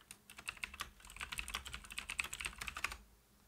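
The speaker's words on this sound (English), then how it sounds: "Just typing something in chat." Rapid typing on a computer keyboard: a dense, close clatter of keystrokes for about three seconds before it stops.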